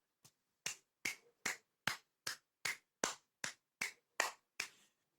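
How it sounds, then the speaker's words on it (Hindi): Eleven sharp hand claps, close and dry, spaced evenly about every third of a second, a lone person clapping in a quiet room. "ओके, मैं ही ताली बजा लूंगा।"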